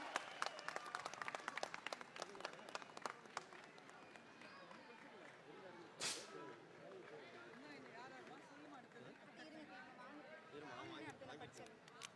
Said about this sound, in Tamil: அனைவரும் இவர்களை கைத்தட்டி உற்சாகப்படுத்துமாறு அன்போடு கேட்டுக்கொள்கிறேன்